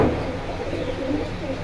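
Soft cooing of a single female jabra pigeon at a pigeon market, low murmuring coos over a steady background hum.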